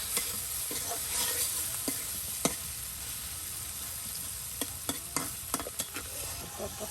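Chicken meat frying in oil with cumin while being stirred, a steady sizzle running throughout with scattered sharp scrapes and clicks of the utensil, most frequent toward the end.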